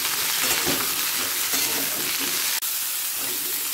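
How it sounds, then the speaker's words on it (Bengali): Cauliflower fries in a pan of hot oil with tempering spices, producing a loud, dense, continuous sizzle and one brief sharp click near the end. "ফুলকপিটাকে প্রথমে হালকা লাল করে একটু ভেজে নেব।"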